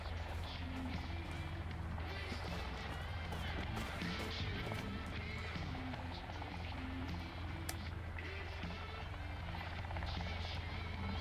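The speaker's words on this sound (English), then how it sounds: "Military outpost. Helicopter." A helicopter at a military outpost in a video game, heard as a steady low rotor thrum mixed with busy game noise and rapid footsteps at moderate loudness throughout.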